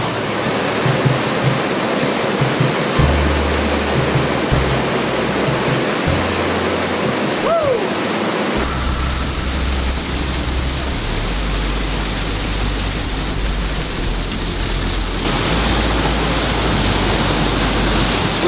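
Granite Falls waterfall roars as a steady, close broadband rush of falling water, loud and unbroken for the whole stretch, with a brief faint whistle-like tone partway through.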